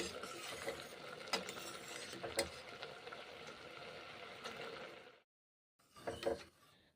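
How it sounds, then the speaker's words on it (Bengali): A spoon stirs daliya (broken wheat) cooking in a pot, making soft scraping and clinking against the metal with a faint simmer underneath. It cuts to silence for a moment, then a short burst of stirring follows. "নেড়ে চেড়ে রান্না করছি ডালিয়া"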